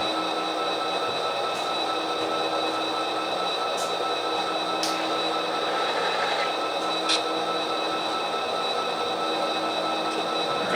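A train rumbles steadily along the tracks during local switching operations in Orange, California, with a continuous mechanical hum and a few faint metallic clicks and squeaks over the top.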